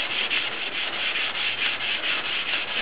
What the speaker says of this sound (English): I put a little bit of soap in there, a little dish soap. It helps lubricate the sandpaper just a little bit.